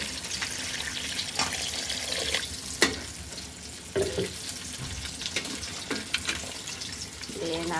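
Duck meat curry cooked with chui jhal, garam masala paste and salt is stirred in a pan, giving a soft sizzle with several distinct scrapes and knocks of the spatula, close and moderately loud.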